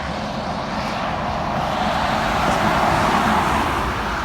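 Road traffic on the A14 makes a loud, steady broadband roar that holds at a constant level throughout, with no talking.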